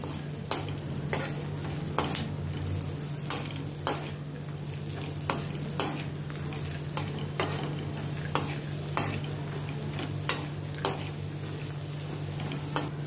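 Roasted chana dal being dry-roasted and stirred in a pan for poha chivda, with a regular run of sharp scraping clicks from the spoon over a soft, even sizzle and a low steady hum.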